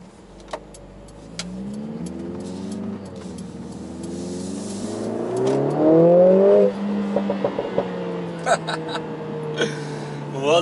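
A 2020 Mercedes A45 S AMG hatchback's 2-liter four-cylinder engine revs up through rising, growling sweeps, climbing to a loud peak before settling, with sharp pops and crackles near the end.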